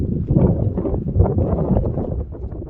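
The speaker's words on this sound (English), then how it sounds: "The wind was a little bit much on the much side, really." Strong wind buffets the microphone at the Mesa Verde cliff dwellings, a steady loud low roar with no pauses.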